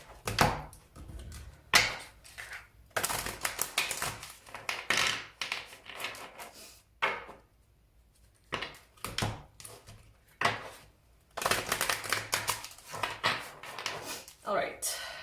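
A deck of playing cards is shuffled repeatedly in bursts of riffling and flicking, each flurry separated by short pauses, close and fairly loud.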